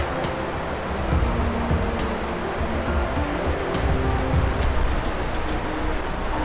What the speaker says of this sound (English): the sound of the water is getting stronger and stronger.